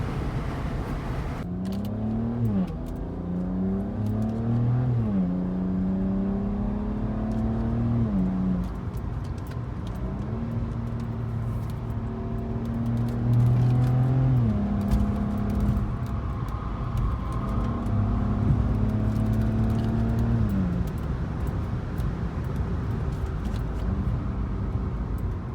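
A BMW 335i with the N54 engine and a Valvetronic Designs valved exhaust downshifts and revs repeatedly while driving, engine pitch climbing and dropping in several rising sweeps over a continuous road rumble.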